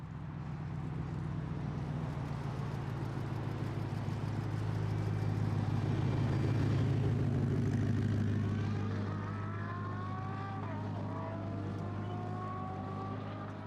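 Koenigsegg Regera hypercar accelerating on a 0-400-0 km/h record run, a steady low drone that swells and then fades as the car passes at a distance, heard alone.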